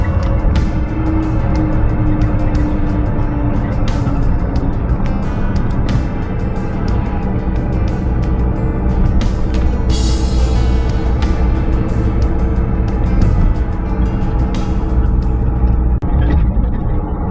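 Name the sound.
cars driving by on a winter street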